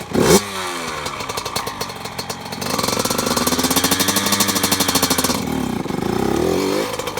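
A Yamaha YZ85 dirt bike engine fires with a sharp burst, then settles into a loud, buzzing two-stroke rev that rises and holds close by, pulsing with throttle before easing off.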